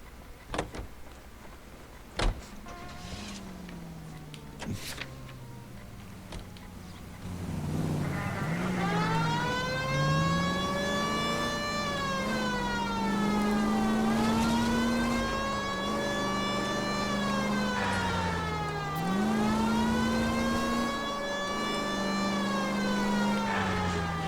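A car drives in the video game L.A. Noire: a few clicks and thumps, then a whining engine tone that climbs and falls repeatedly as it accelerates and shifts, moderately loud and with no voices.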